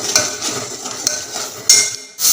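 A thick masala for country-style mutton is stirred and roasted in a pan, a loud close scraping and clinking of a spoon against metal in uneven strokes, with a faint sizzle underneath and no speech.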